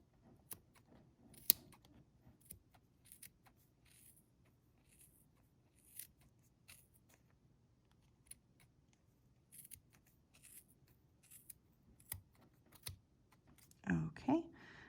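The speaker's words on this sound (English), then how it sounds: "going to cut in this groove all of the strands of yarn" Scissors snip through bundled strands of yarn held in the groove of a Clover pom pom maker, a series of quiet, sparse close-up clicks and cuts ending in a louder rustle.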